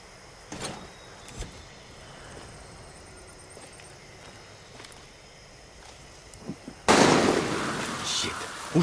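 Gunfire erupts in Far Cry 6 game audio, a few scattered sharp cracks early on, then a loud sustained burst of shots near the end, with speech heard in the clip.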